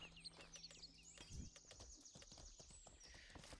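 Horse hooves clip-clop in the video game Mortal Online 2, a steady light patter of footfalls with faint bird chirps around it and no voices.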